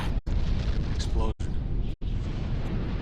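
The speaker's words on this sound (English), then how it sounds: "Explosion." An explosion booms in the L.A. Noire video game, loud and rumbling, broken by brief silent cuts, with game voices speaking over it.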